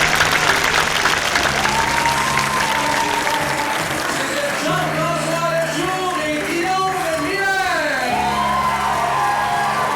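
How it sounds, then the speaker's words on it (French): A crowd applauds after a comedian's gag, loud sustained clapping mixed with whoops and shouts, with tonal voices or music rising through the middle. "Je veux que tout le monde applaudisse."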